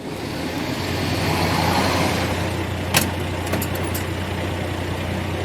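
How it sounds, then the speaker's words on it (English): A Mahindra vehicle drives past with a steady, medium-pitched engine hum and road noise at moderate distance, a couple of brief clicks near the middle, no voices. "I think this is the Mahindra vehicle, back to back."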